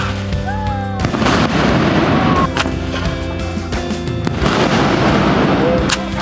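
A cannon loaded with a wish paper and lit by its fuse fires at a Taihang Mountains site in China, giving a loud sharp blast, then another heavy boom a few seconds later, with crowd noise and voices around.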